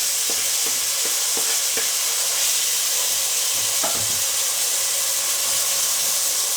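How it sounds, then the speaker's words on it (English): Onions and tomatoes frying in a pot of African beans give a steady, close sizzle and hiss, with a few soft stirring clicks and knocks throughout and no talking. "So the onions are getting ready, so it's time to put the tomatoes."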